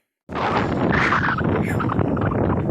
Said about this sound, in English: Temperature sure changed. It's windy.